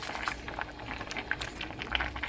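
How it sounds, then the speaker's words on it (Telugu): Rice and bottle gourd boil in a pot for payasam, giving soft, close bubbling and popping at an uneven pace, faint and with no voices. "రైస్ను సొరకాయ చక్కగా ఉడుకుతుంది కదా"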